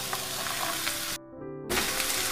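Yardlong beans dropped into a hot frying pan while making vermicelli upma, a loud close sizzle that cuts out briefly mid-way and then surges back as stirring resumes, with no speech.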